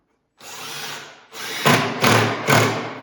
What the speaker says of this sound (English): I'll drill this hole or this screw first